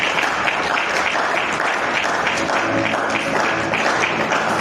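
A church congregation at a French-language deliverance service claps loudly and steadily, a dense sustained applause with some cheering mixed in.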